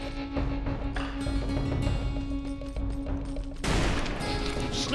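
Sniper gunfire rings out in the Western shooter game Call of Juarez Bound in Blood: loud, sharp shots and bursts over a steady tonal music bed, with a heavier crash of fire near the end.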